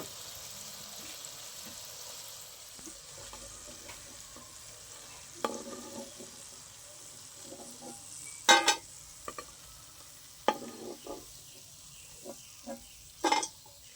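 Jalebi and papad fry in hot oil at home with a soft, steady sizzle, and sharp clinks and scrapes of a utensil against the pan break in at intervals, close by.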